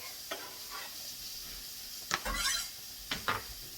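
Garlic sizzling in a skillet, stirred with a few sharp scrapes and clinks of a utensil against the pan over a soft, steady frying hiss, close and quiet, no talking.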